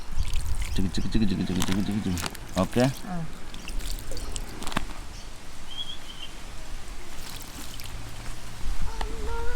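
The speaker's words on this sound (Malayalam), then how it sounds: "ഇത്തിരി വെള്ളം കൂടെ ഒഴിച്ചങ്ങ് കൊടുത്തേക്കാം." Water is poured over freshly planted sweet potato, a soft splashing trickle running under a person talking nearby.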